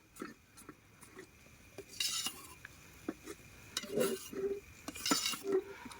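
A spoon stirs dal with a desi ghee tempering in a pot, giving soft, irregular scraping and metallic clinks at close range, with no talk.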